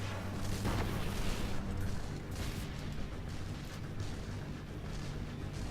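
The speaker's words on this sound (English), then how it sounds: "Nice rocket launcher to the eye" A rocket launcher explosion in Destiny during a co-op strike mission lands as a loud, deep boom near the start, then trails into a dense rumbling roar of ongoing combat noise.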